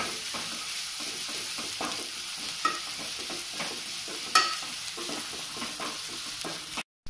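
Beef with shallots and green chilies stirred in a pan for Palakkad beef biryani: a close, soft sizzle under repeated rhythmic scraping strokes and a couple of sharper utensil knocks, no talk.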